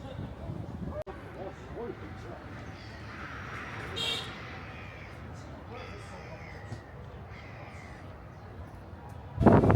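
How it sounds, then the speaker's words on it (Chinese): Harsh black-headed gull calls squawk repeatedly from a large flock at Dianchi Lake, Kunming, some near and some farther off, mixed with background voices and a sudden louder noise at the end. "我的天，好多这个红嘴海鸥呀！"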